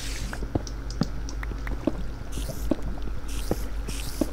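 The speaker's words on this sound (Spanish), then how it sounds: "Estoy escuchando agua también." Flowing water trickles and drips inside a Minecraft cave, a steady watery wash with scattered drip-like plinks and faint hissing bursts, continuous and moderately close.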